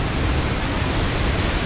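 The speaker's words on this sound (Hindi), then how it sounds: "काफी नजदीक देखो वाटरफॉल के काफी नजदीक से गुजरते हुए बहुत ही ज्यादा अच्छा लग रहा है" Steady, dense roar of the Chitrakoot waterfall heard from very close, a continuous broadband rush of falling water filling the whole moment with no break.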